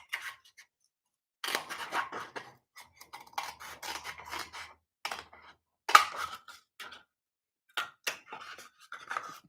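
Scissors and a craft knife cut through craft material close up, giving irregular bursts of snipping and scraping with quiet gaps between them, no talking.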